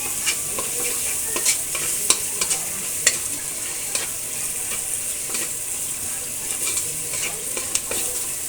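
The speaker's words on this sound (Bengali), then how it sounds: "এবার আমি ভালো করে মশলাটা কষিয়ে নিচ্ছি।" Spice paste being stir-fried for a raw jackfruit curry: a constant close sizzle with frequent light spatula taps and scrapes at an irregular pace, no one speaking.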